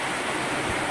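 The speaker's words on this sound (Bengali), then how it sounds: "আর প্রচন্ড বৃষ্টি হচ্ছে" Heavy rain falls at night as a dense, unbroken roar of hiss, with water leaking indoors onto books.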